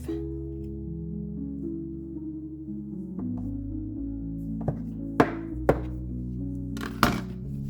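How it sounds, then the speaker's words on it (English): A knife cuts through a ball of honey wheat sourdough dough, giving a few soft thunks against the board, with sharper knocks near the end over a steady low background hum. "we're just going to cut our dough in half"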